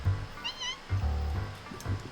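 A cat in a video game meows a few times, short rising calls spaced across the moment, close and clear over a low ambient hum.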